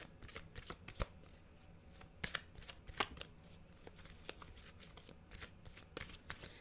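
A deck of oracle cards is shuffled by hand, a series of quick papery riffles and taps with uneven rhythm, close and fairly quiet, with no talking.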